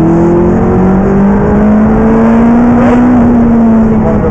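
A McLaren 650S accelerates at full throttle, its engine note a loud, close, sustained roar rising steadily in pitch with no pause.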